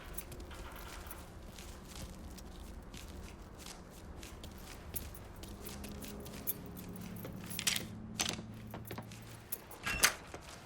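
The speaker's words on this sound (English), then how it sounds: "Hey, man, grab those keys." Keys jangle in the video game Mafia III amid shuffling movement and soft footsteps, with a few sharp metallic rattles toward the end.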